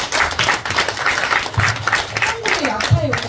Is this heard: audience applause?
yes